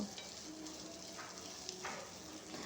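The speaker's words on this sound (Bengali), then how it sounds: "পেঁয়াজ, কাঁচামরিচ, রসুনগুলো ভালো করে লাল করে ভেজে নেব।" Chopped onion, green chili and garlic fry quietly in a pan, a faint soft sizzle broken by a few light stirring scrapes.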